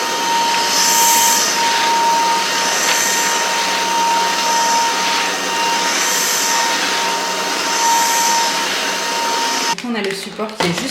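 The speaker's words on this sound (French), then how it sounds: "Franchement, je l'aime beaucoup cet aspirateur. L'aspiration est très très bonne." A cordless vacuum cleaner set to power level 2 runs with a steady, loud, close whine and airflow roar, with a brief handling clatter near the end.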